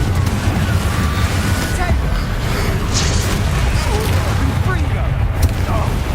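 Spell explosions from Confringo and Bombarda boom through a Hogwarts Legacy battle, with deep rumbling blasts layered over continuous combat noise.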